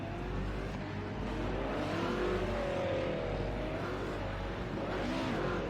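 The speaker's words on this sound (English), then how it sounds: "We can hear several cars scrambling out on track." Several Group A touring cars, including Ford Sierras, circulating in a sim-racing qualifying session at Zhuhai International Circuit, giving a steady blended engine drone with faint rising and falling revs from cars on track.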